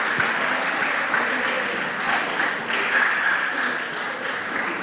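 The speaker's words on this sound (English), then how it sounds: "give yourselves a big clap for that." An audience at a school quiz contest between junior high schools applauds the contestants: a dense, loud, continuous wash of many hands clapping, even and sustained for nearly five seconds.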